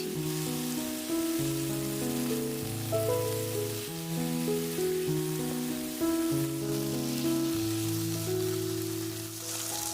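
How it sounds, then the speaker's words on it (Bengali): Potatoes frying in mustard oil give off a steady, broad sizzle throughout, partly masked by melodic background music playing over it. "প্রথমে আলুগুলো একটু হালকা করে ভেজে নিচ্ছি"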